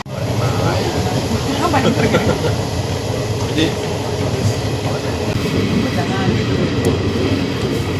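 A train arriving at Kodaikanal Road railway station rumbles and clatters steadily nearby with a low heavy roar, faint voices mixed into the noise.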